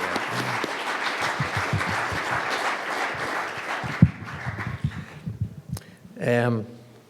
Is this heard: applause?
yes